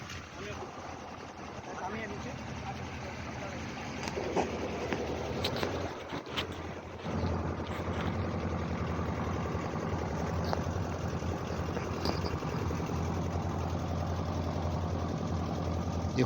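A passenger launch's engine drones steadily as the boat travels by water toward Gosaba, a continuous mid-pitched rumble that runs throughout, with voices talking over it.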